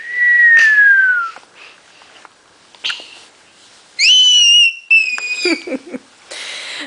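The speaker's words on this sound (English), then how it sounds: "Mommy has to whistle to get that high." Human whistling, a sliding whistled note followed later by rising, warbling whistles, separated by quiet stretches and soft sounds.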